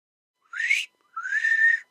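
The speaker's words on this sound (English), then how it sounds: "I whistle." Two clear whistled notes in the video game Sly Cooper, the first a short rising chirp, the second a longer sustained tone, with a brief pause between; no talking.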